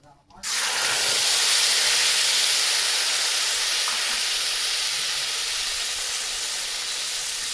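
A sudden loud sizzle bursts out as ginger and green chili paste hits hot oil, then a steady hissing fry continues, close and dominant.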